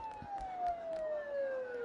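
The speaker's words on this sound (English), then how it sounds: "Don't those sirens sound really close?" Sirens in the Persona 4 Golden game wail close by, a steady high tone sliding slowly downward throughout, with faint rhythmic tapping beneath.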